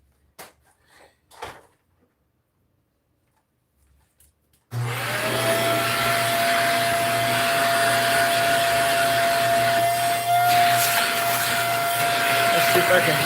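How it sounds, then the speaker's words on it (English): Faint handling knocks and brief talk come first, then a vacuum cleaner switches on abruptly and runs with a loud, steady whine and hum, close by, through to the end. "let me try to vacuum this a little bit before I do anything"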